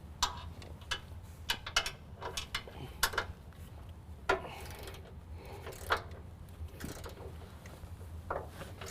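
A ratchet loosens a 13mm bolt on a 2017 Ford F-250 Super Duty during a lift kit install, quick bursts of clicking pawl ticks with short pauses, close and fairly quiet, alone with no talking.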